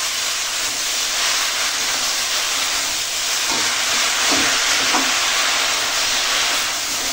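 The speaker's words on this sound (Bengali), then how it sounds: "এখন এই দিয়ে দেবো কেটে রাখা শাক, আর দিয়ে দেবো একটু হলুদের গুঁড়ো।" Freshly picked young leafy greens with turmeric powder frying in a pan over onions, a steady, loud sizzling hiss that runs continuously with a few faint clinks.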